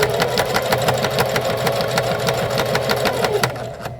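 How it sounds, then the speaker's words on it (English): A sewing machine stitches a skirt hem with a rapid, even mechanical chatter, close and continuous, slowing slightly near the end. "sew a section, roll over the next part"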